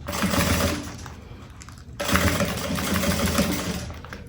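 A sewing machine stitches a pencil case with a carrying strap in a steady mechanical whir. It runs in two bursts with a brief pause near the middle.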